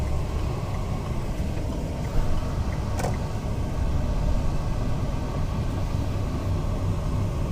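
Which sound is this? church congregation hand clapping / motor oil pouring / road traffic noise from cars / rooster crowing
road traffic noise from cars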